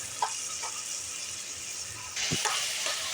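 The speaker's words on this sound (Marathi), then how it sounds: "हे बघा आता फ्राय झाले मटर चांगले" Green peas fry in a pan for a dhaba-style matar paneer, a steady close sizzle that grows louder partway through, with a few light stirring clinks.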